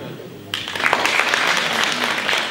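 Applause breaks out abruptly after a quiet start at a charity fashion and entertainment show, then continues as a lively, fairly loud crowd clapping to the end.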